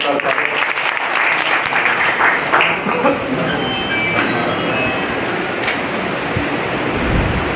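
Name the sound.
loud applause at a rally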